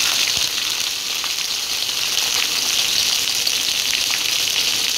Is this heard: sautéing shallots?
yes